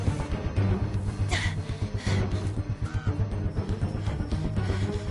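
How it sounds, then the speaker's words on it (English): A crow caws in the video game The Final Girl, brief calls standing out over a dense, continuous game soundscape. "Oh, I hear that like crow though."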